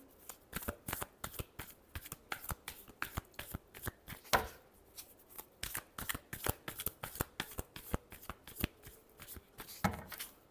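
Tarot cards are shuffled by hand close up in quick, crisp bursts of riffling and snapping, repeated rhythmically throughout with short gaps and no talking.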